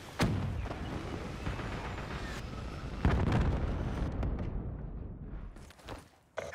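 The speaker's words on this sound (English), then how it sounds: "Be advised, hostile hellstorm inbound." Hellstorm missile strikes in a video game, heavy booming explosions with deep rumbling blasts, a sharp hit at the start and another big impact midway, followed by lingering debris roar that fades before a final thump.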